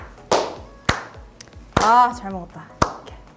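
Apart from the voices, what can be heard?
slow hand clapping after eating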